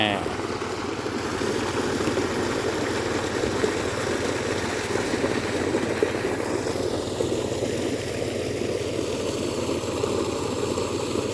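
A small engine-driven water pump running steadily outdoors while filling a rice field, a continuous droning motor with a rough, unchanging hum and no break in the noise.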